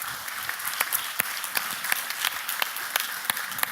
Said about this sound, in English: please give applause for the video